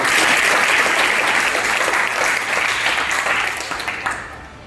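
An audience bursts into loud, sustained applause in a hall to welcome a guest director at a school awareness event on solar energy, the clapping steady throughout before thinning slightly at the end, with no talk over it.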